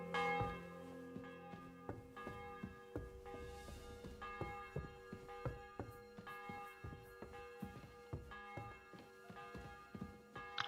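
A church bell tolls repeatedly for a wedding in the medieval game Kingdom Come Deliverance II, steady ringing strikes with long humming overtones hanging between them, moderately distant and alone without talk.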